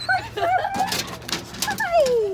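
Several dogs whimper and whine excitedly at owners returning after two and a half days away inside an RV, with high rising whines and yips close by, mixed with people speaking warmly over them.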